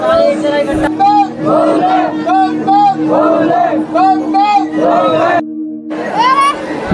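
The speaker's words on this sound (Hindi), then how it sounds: "देखिए आज सोमवार वाले दिन नीलकंठ महादेव में श्रद्धालुओं की ताज़ा स्थिति, बहुत ज़्यादा भीड़ भाड़ है।" A dense crowd of pilgrims at Neelkanth Mahadev temple on a Monday during Sawan chants and shouts in loud, rhythmic waves, with a short pause before the chanting swells again.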